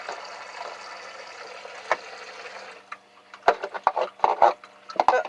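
Water runs from the shower in a truck camper bathroom with a steady spray, then breaks into irregular splashes and sputters toward the end.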